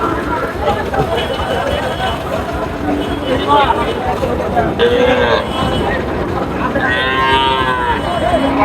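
Cows mooing at a busy village cattle market, several long lowing calls near and far rising over a steady hubbub of people talking and bargaining.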